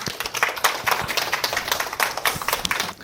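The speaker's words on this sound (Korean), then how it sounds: "큰 박수로 모시도록 하겠습니다" An audience at a maternity class event claps to welcome a tenor singer: a brisk, close run of individual hand claps, steady and fairly loud for about three seconds.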